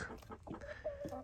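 Hens clucking inside a chicken coop, a short run of close, repeated throaty clucks and warbling calls with no talking.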